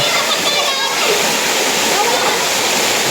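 A waterfall pours in a steady, loud, unbroken roar of rushing water, close and constant, masking any other sound.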